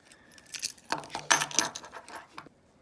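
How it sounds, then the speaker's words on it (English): A Nissan Leaf car key is slid back into its key fob, making close metallic scraping and jingling clicks over about two seconds, then a quiet finish, with no voices. "So you take the key like this and just slide it back in there and it will click."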